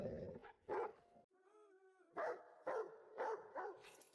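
A dog barking in several sharp, close bursts in an irregular rhythm, broken by a short, tonal whine in the middle.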